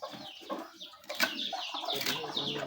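Scattered chicken clucks and squawks with some wing flapping, moderately close, against a busy outdoor background.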